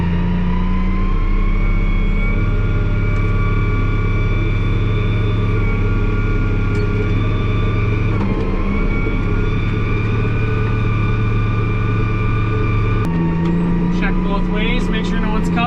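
A tractor hauling a loaded manure spreader out to the field drones with a steady, loud low engine hum and whining cab noise, with a few shifts and rattles.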